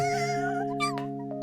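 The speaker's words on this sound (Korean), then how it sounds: "저 불쌍한 고양이가 잔뜩 겁에 질려 울고 있잖아." A frightened cat in a children's animated series cries with a long, wavering, high meow followed by shorter plaintive calls, close and clear against a faint background.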